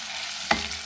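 Finely chopped onion drops into hot oil with fried cumin seeds, raising a short burst of sizzle that then settles into a low, steady fry.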